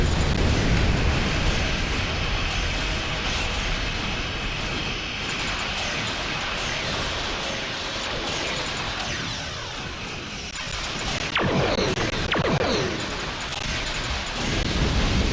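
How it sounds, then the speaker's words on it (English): Torpedo fire and explosions in Star Trek Online, a loud continuous roar of blasts and crashes with sharper bursts near the end, no talking. "That's a lot of torpedoes."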